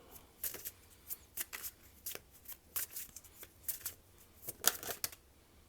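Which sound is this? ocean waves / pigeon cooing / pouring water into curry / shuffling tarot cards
shuffling tarot cards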